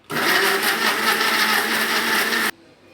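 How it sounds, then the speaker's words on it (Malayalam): Electric mixer grinder whirs loudly and steadily blending mango without water for a couple of seconds, then cuts off abruptly into near silence. "അല്പം പോലും വെള്ളം ചേർക്കാൻ നമുക്ക് മിക്സിനകത്തുനിന്ന് അടിച്ചെടുക്കാം"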